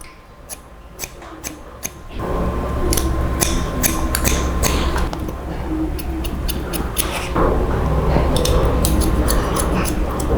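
Scissors snip through hair during a haircut, a string of crisp, irregular close cuts over a steady background hum, with clusters of quick snips and short pauses between them.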